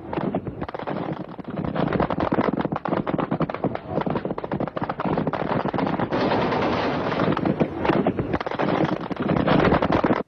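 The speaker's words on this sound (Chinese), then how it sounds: "与此同时，其舰船上的各种武器也疯狂地向我登礁队员压了过" Weapons aboard a ship, including machine guns, fire in a dense, continuous barrage, rapid loud bursts blending into a roaring wall of gunfire throughout.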